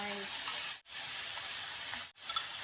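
Chicken, garlic and onion stir-frying in a spoonful of oil in a wok, a continuous bright frying hiss broken by two short silent dropouts, with light stirring scrapes.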